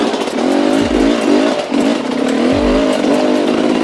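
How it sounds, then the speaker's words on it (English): A 2019 Sherco 300 SE Factory dirt bike engine, heard while riding, pulling from low revs with traction in second gear: a loud, close two-stroke drone that rises and dips as the throttle is worked, with no talking. "Riding it right off the bottom there with traction in second gear"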